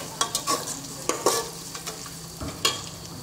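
Whole spices (cumin, coriander seed, mace, nutmeg, black cardamom, cinnamon, cloves) sizzle softly in hot oil in a pot for pulao while a spoon stirs with a few scraping clinks, close and quiet, without talking.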